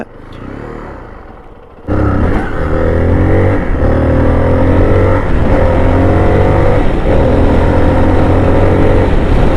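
A Zontes 350T motorcycle engine roars in suddenly and accelerates hard, loud and close, its rising revs climbing in steady steps through the gears.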